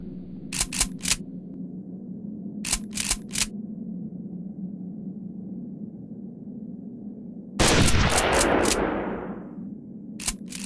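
A single rifle gunshot in the hunting video game Hunting Unlimited 2011 cracks out sharply over a steady low ambient hum, its echo fading over about a second, with quieter clicks before and after.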